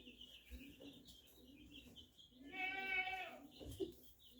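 A goat being fed goat treats gives one clear, wavering bleat midway, close by, amid quiet rustling and other faint farmyard sounds.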